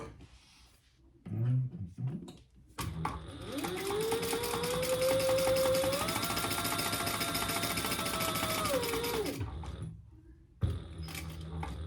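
A sewing machine runs in one sustained burst of several seconds, stitching backwards on a fabric bag, a close whirring hum with rapid needle clatter, with short bits of handling noise before and after.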